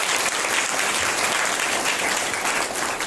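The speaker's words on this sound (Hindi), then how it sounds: "एक बार तालियां हो जाए जरा" Sustained audience applause from a large crowd, dense and steady clapping filling the room for a few seconds at even loudness, with no talk over it.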